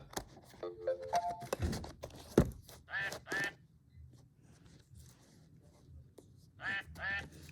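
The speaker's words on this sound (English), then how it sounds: "that's a duck." A children's toy animal-sound piano plays a duck quack, with several short electronic honking calls set against soft background noise. Beeping tones come before them, and there are faint handling sounds.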